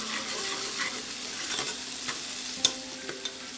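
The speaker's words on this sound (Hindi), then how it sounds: "ये मैंने लहसुन अदरक पेस्ट डाल दिया है गरम ऑयल में। लाइट ब्राउन करेंगे हम गरम ऑयल में लहसुन अदरक को।" Garlic ginger paste frying in hot oil in a pan for beef nihari, a soft steady sizzle with a few light clinks of a utensil against the pan.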